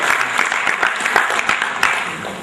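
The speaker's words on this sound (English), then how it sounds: "So can you have a loud applause for those engineers who have created that?" Loud audience applause for engineers at a national HR summit, dense clapping from a crowd sustained throughout and easing slightly at the end.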